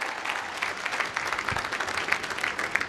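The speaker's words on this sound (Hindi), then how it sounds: "मैं चाहूंगा इस इंडस्ट्रीज के लिए धमाकेदार ताली होनी चाहिए, धमाकेदार।" Audience applause at a business event, a steady, dense wash of many hands clapping throughout, moderately loud and fairly close, with a few sharper individual claps standing out.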